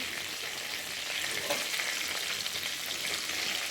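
Chopped onions sizzle and fry steadily in hot oil in a pan while making an okra (bendekai) palya, a continuous bright hiss with faint stirring scrapes and no voices.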